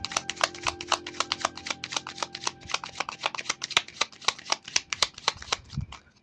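A deck of tarot cards being shuffled by hand, a steady run of quick crisp riffling flicks close up, fairly quiet, with no voices.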